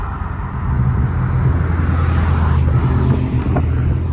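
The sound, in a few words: Dodge Scat Pack engine and exhaust under a bridge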